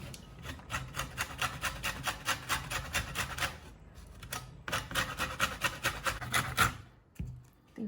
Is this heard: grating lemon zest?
yes